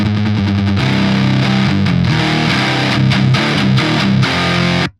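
Heavily distorted electric guitar pushed through a Precision Drive pedal, playing loud, tight chugging riffs with rhythmic stops and palm-muted bursts before cutting off abruptly.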